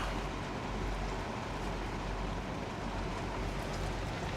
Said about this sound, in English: Man, it is raining something nasty out there.